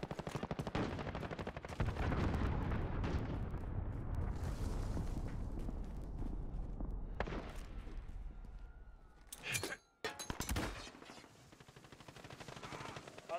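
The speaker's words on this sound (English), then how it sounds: "Allied cruise missile launched." Cruise missile strike in the shooter game Call of Duty Modern Warfare, with rapid bursts of gunfire and heavy booming explosions rolling through, then a brief drop-out before more sharp blasts.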